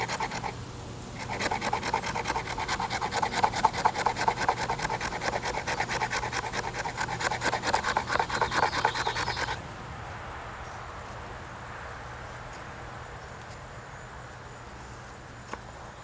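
A knife blade scrapes rhythmically along a piece of fatwood, shaving off curls for fire lighting in a steady run of close, raspy strokes that stops partway, leaving quiet background.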